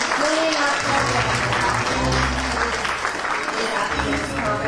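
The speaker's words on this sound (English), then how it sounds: "Let's have a round of applause." Audience applause rises at an award ceremony, a dense wash of clapping from a crowd that continues steadily throughout, with a voice faintly audible beneath it.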